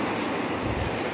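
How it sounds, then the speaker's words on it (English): Ocean waves wash onto a beach at Puerto Galera, a soft, continuous surf rush mixed with light wind noise, fairly quiet and with no voices. "Enjoying the waves."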